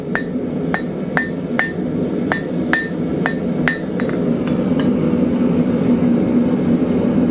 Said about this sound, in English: we're going to come and put a point on this. Right at the edge of the anvil, as always.